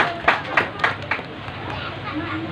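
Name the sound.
audience applause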